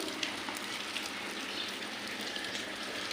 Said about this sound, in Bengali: দেখো কি বৃষ্টি পড়ছে দেখো